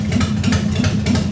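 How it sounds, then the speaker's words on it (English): A motorcycle engine idles steadily up close, a low rumbling putter with a regular pulsing rhythm and no voices. "I'm gonna turn this motorcycle off. I just got it warming up."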